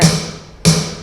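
Two sharp snare drum hits from an electronic drum module (D4) set up on a Thai parade sound truck, the first at the start and the second about half a second later, each ringing out briefly and decaying.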